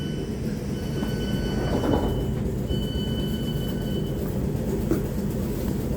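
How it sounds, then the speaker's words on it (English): Steady, loud rumble of a train running between Kingston and London Waterloo, heard from inside a carriage, with faint high wheel squeals partway through and no talking. "This train is for London Waterloo."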